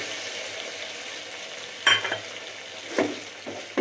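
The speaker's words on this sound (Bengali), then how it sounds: "এই তেলের মধ্যেই এবার পেঁয়াজটা দিয়ে দেবো" Onion frying in the oil left after cooking chicken for an egg chicken roll, a steady soft sizzle with a few louder scraping stirs, close and alone.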